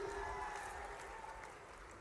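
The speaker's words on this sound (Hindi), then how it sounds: "जोरदार तालियां सचिन भाई के लिए भी।" Distant, faint applause from an audience at a political event in Khargone, a steady wash of clapping lasting about two seconds.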